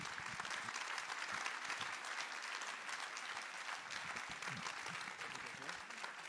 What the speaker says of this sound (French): Je vous demande d'applaudir Monsieur François-Xavier de Maison sur scène